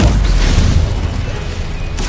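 Incendio fire spell cast in Hogwarts Legacy, a loud, dense booming roar of flame with rumbling bursts that fills the whole moment without pause.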